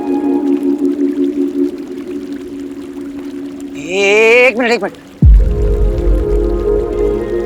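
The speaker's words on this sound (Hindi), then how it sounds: "मुझे पानी की आवाज आ रही है।" Flowing, pouring water effect in a Hindi action movie, running steadily under a brief spoken line, with a rising, warbling tone and a sharp thud near the end.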